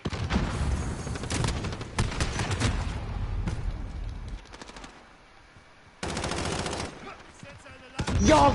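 Automatic and sniper gunfire from the PS4 shooter Call of Duty: Modern Warfare, loud bursts of rapid shots in clusters with brief quiet gaps, plus a final sharp volley.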